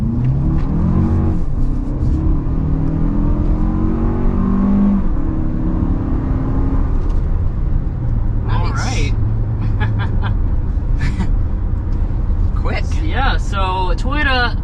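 A 2023 Toyota Highlander with a turbocharged four-cylinder engine accelerates hard, its rising engine drone steady under continuous in-cabin talking.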